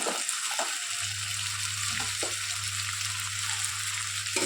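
Tomatoes frying in a pan until soft, an even close sizzle with a few soft scrapes of stirring over a low steady hum, no voices.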